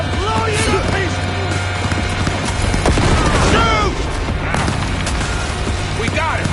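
Gunfire in Cyberpunk 2077 crackles in rapid bursts with heavy booms, dense and loud throughout, while shouted voices cut in over the battle.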